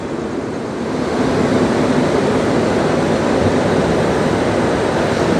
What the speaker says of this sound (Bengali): রাত 2:44 বহরমপুর কোর্ট ছাড়লো ট্রেন।